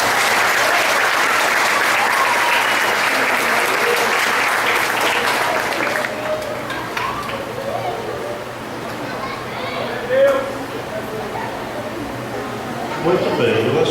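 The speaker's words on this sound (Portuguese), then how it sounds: "Os irmãos podem aplaudir neste momento" A church congregation applauds during a service with youth participation, marking an engagement. Loud, dense clapping fills the first six seconds, then thins out into murmuring voices and scattered talk.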